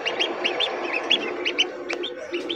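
Newly hatched ducklings peep from an egg incubator, a quick run of high, repeated chirps that are fairly close and steady, with no voices.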